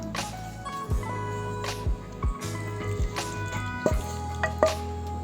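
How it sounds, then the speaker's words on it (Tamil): Water from the pan used to sauté tomatoes is poured into a mixer jar holding ground black urad dal and tomatoes, giving a few close, wet drips and squishy splashes over a steady background hum, with no talking. "தக்காளி வதக்கின அந்த பேனில் இருக்கிறத தண்ணி கொஞ்சம் ஊற்றி இதில் ஊற்றிக்கலாம்"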